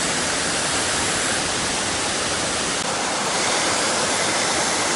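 Ong Dong waterfall in Binh Phuoc, a forest cascade over flat stream rocks, roars as a loud, steady, broadband rush of falling water that continues unbroken from start to finish, with no voices.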